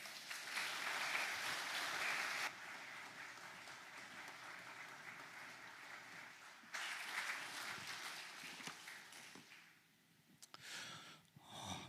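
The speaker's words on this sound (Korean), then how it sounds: "강사님 나오실 때 박수로 환영해 주시기 바랍니다" A congregation at a special early-morning church service applauds to welcome the preacher: faint, distant clapping comes in two broad bursts separated by a quieter stretch, and it tapers off toward the end.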